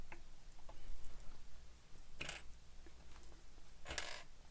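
Small metallic clicks and taps as the presser foot on a sewing machine is swapped for a zipper foot, a few brief sharp snaps over a quiet room hum.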